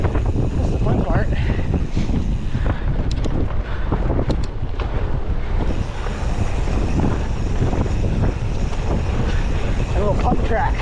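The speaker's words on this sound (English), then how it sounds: "Real good headwind." A strong headwind roars across the microphone while cycling on the Sawmill trail at Moore Park, a loud, continuous, buffeting rush that masks most other sound.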